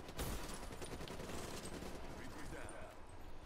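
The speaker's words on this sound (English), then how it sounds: "Bro, that gun sound." Rapid gunfire in an online multiplayer video game comes as a burst of quick shots right at the start, followed by lower, muffled game noise that fades away.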